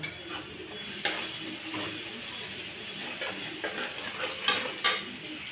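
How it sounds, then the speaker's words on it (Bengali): Masala with turmeric, coriander and cumin powder and salt is stirred in a pan, giving a soft, fairly quiet sizzle broken by repeated clinks and scrapes of a spoon against metal. "দিয়ে আবার এটাকে আমি ভালো করে নাড়াচাড়া করব"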